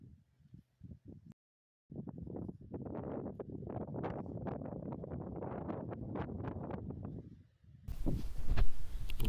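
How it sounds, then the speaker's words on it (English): Wind buffets the microphone on a dry, blustery North Yorkshire hillside, coming in rough gusts with short quiet gaps and a louder rumbling burst at the end. "So it wasn't raining, but still windy as out today."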